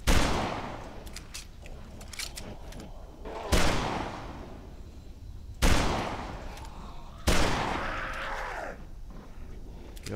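Four sharp, loud gunshots from the video game Dead Island ring out a couple of seconds apart, each decaying into a reverberant tail, over faint background noise.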